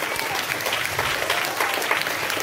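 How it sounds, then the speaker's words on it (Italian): A crowd of schoolchildren claps steadily and fairly close, a dense patter of many hands that continues without pause throughout. "quindi un grande applauso bambini"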